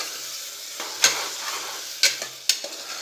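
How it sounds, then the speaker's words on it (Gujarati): Chopped vegetables and diced potato sautéing in oil for Surati papdi curry, a soft steady sizzle broken by three sharp spoon scrapes against the pan, close with no talk. "આ રીતે થોડીવાર તેલમાં સંતળાશે શાક"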